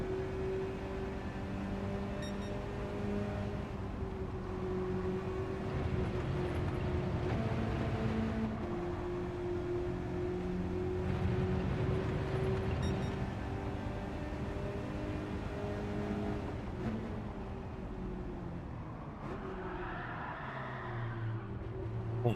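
Mazda race cars in a sim racing game drone with a steady engine note that shifts slightly in pitch over a long stretch, heard close and without voices.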